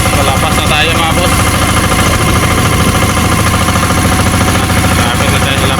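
A boat's engine running steadily after being started, a loud continuous mechanical drone with rhythmic knocking, constant throughout with no pauses.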